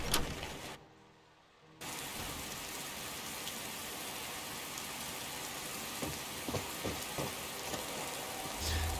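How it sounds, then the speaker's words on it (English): Steady, dense rain in the video game Skyrim Special Edition hisses throughout, dipping briefly near the start, with a few soft thuds and patters breaking through the wash. "And it's raining again."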